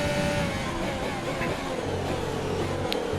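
A Ferrari Formula 1 car heard onboard in the F1 20 racing game at the Brazilian Grand Prix, a sustained engine whine with shifting pitch and a low steady drone, moderately loud and continuous.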